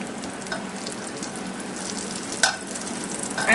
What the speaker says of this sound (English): So my pat of butter is working on melting.